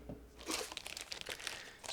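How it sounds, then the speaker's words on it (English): A plastic bag holding parts of a 1/24 scale Meng Audi R8 LMS GT3 2019 car model kit is pulled open, giving close, quiet crinkling and rustling in quick irregular bursts. "I just need to open this plastic bag"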